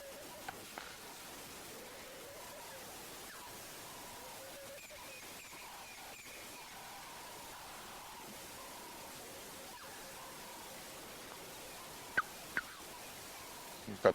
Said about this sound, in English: dawn chorus going, crested francolins, Cape turtle doves,